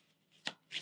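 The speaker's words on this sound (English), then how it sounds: "One last shuffle." A deck of tarot cards is shuffled twice, with a sharp riffle and a softer follow-up within a second, close and clear with no one speaking.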